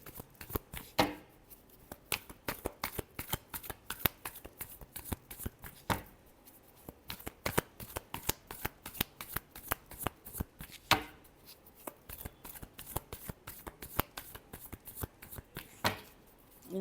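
Tarot cards are shuffled steadily and close up, a long run of crisp riffling slaps and flutters in quick irregular bursts, with a few louder snaps standing out, and no voice over them.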